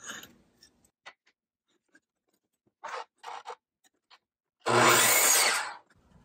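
A saw trims cedar fence pickets for a tomato cage, giving one loud, rasping stroke of about a second after a few soft scrapes and taps.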